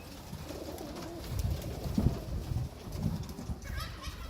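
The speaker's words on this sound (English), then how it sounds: "We will release them, all the young birds, maybe in few minutes." Young racing homer pigeons coo softly in an aviary, low murmuring calls rising and falling in a few overlapping bouts, close by with a quiet rustling background.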